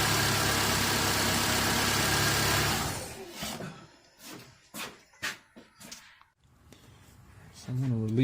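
A car engine with a blown head gasket idles with a steady, loud rumble, then shuts off around three seconds in, leaving scattered clicks and knocks and a brief hiss near the end.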